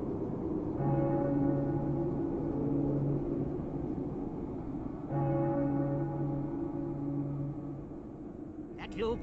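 A church bell tolls during a holiday stage show, giving slow, heavy strokes that each ring out and decay over a low rumble, with no voices over it.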